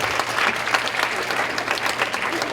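An audience at a teen conference talk applauds with dense, steady clapping that fills the whole moment.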